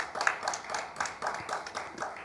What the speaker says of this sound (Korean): 박수로 하나님께 영광 돌립시다